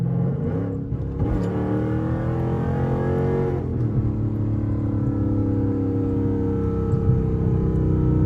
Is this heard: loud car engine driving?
yes